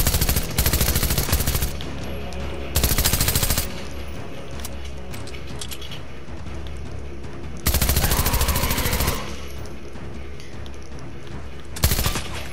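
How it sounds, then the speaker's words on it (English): Rapid SMG gunfire in Fortnite, several loud automatic bursts a second or so long, separated by quieter game ambience, with one short burst near the end. "Yep, this SMG is shredding."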